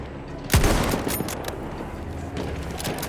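Gunfire in the video game Battlefield 1, with an 8mm Mauser rifle, a sharp loud shot followed by a dense rumble of continuous battle noise and further distant firing.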